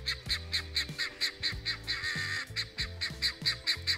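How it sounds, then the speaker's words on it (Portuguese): Helmeted guineafowl on a farm in Ibiúna, São Paulo, beside woodland, call in a steady stream of harsh, rhythmic, repeated cries, about two per second, fairly close and with no talking. "Olha só o barulhinho desse da galinha de Angola"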